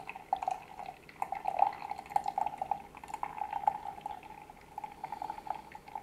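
Aged Yiwu Pu'er tea liquor pours in a thin, steady trickling stream, faint and close, with soft splashing that carries on for several seconds.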